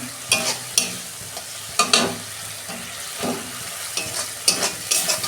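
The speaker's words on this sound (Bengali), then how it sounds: "ভালো করে আমি কষাবো" Tomato, onion and spices are stirred and sautéed in a pan for a spicy bhola fish curry, with a soft sizzle under repeated scraping strokes of a spatula, close up and with no talking.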